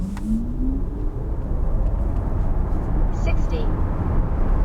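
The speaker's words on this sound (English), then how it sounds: "accelerate 0 to 100 kilometers an hour, and we start with the 19-inch wheels" VW ID.7 electric car on 19-inch wheels in sport mode accelerating hard from 0 to 100 km/h, giving a steady road and tyre rumble with a faint rising electric motor whine inside the cabin.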